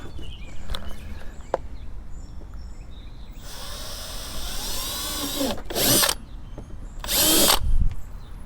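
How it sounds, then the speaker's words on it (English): A power drill whirs in three bursts while drilling a hole for an oil catch can on a Mercury Grand Marquis, a long run followed by two shorter ones, close and loud over a quiet room. "Let me drill this hole first, make sure there's nothing there."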